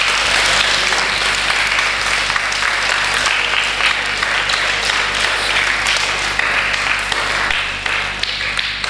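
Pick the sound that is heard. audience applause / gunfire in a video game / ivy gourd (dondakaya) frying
audience applause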